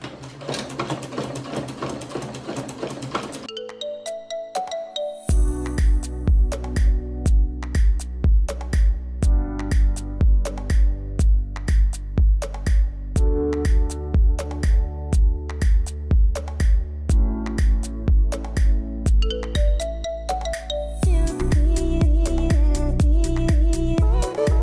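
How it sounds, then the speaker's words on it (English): A sewing machine top stitches a narrow hem, its motor running in a steady, rapid rhythm of needle strokes that starts after a brief pause and continues loud and close, with short changes in speed and no talking. "So I'm just gonna top stitch this hem down with just a narrow"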